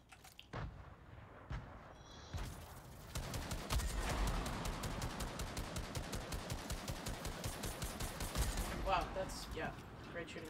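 Rapid repeated gunfire in a multiplayer video game firefight, a long rhythmic burst of sharp shots following a few scattered single shots, with players talking over it.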